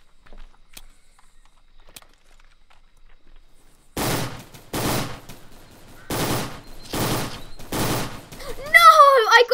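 Video game gunfire in a Fortnite-style Roblox game: after a quiet start, five quick bursts of shots ring out close and sharp, and a voice talks over the end.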